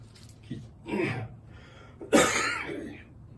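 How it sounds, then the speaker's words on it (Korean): A few harsh coughs and throat-clearing sounds, close and irregular, separated by short quiet gaps. "기침이 나와서 좀 억제하려다 보면"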